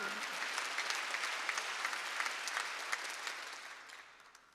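A church congregation at a Wednesday worship service claps together in a dense, steady burst of applause that stays loud and even, then thins and fades toward the end.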